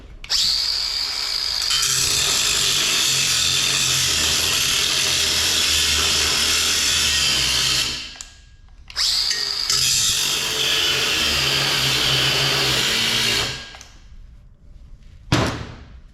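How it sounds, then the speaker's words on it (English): An angle grinder works steel during fabrication of a homemade tractor loader, with a long loud continuous grind, a brief pause, then another sustained run, ending with a couple of sharp metal knocks nearby. "A lot more grinding."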